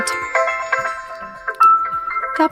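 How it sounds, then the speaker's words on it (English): A Motorola Moto G45 5G phone plays a ringtone from its settings list, a loud, close melodic tone sequence of bright, pitched notes in an uneven rhythm, with no talking over it. "in order to listen how the particular ringtone sounds, you have to simply tap on"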